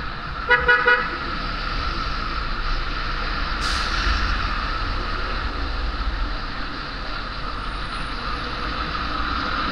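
Busy city street traffic on Osmeña, with buses and container trucks passing, a continuous loud roar of engines, a short burst of car horn toots near the start and a hiss of air brakes midway.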